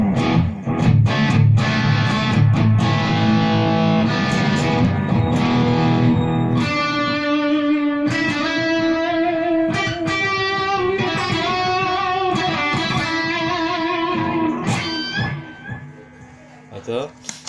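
An electric guitar through a distortion effect pedal plays sustained, gritty chords and notes, loud and buzzing, with the tone shifting partway through.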